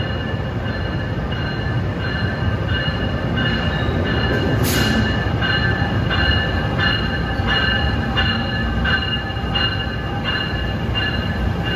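An inbound commuter train rumbles steadily past at close range as it arrives at a station, with rhythmic rail clicks, a brief high squeal of wheels and a constant heavy roar.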